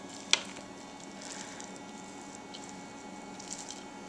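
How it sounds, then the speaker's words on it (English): A plastic spatula mixes macaroon ingredients in a bowl, soft wet squishing and patting that goes on quietly and close, with one sharp click near the start and no talking. "I like to use a plastic spatula to mix all of this together."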